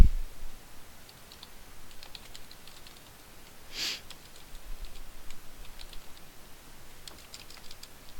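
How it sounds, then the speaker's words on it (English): Computer keyboard keys pressed while entering building accounts in accounting software, faint scattered clicks in steady, uneven bursts over a quiet background, with one louder click midway. "I'm going to arrow down, and I'm going to hit Spacebar if you want to get good with the keyboard."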